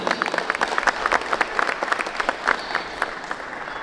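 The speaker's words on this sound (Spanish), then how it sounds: "para quien pido un fuerte y caluroso aplauso" An audience at a technological institute inauguration claps for an invited teacher, moderate, uneven applause from a small crowd lasting a few seconds.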